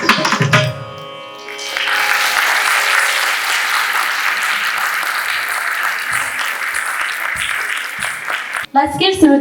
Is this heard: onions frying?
no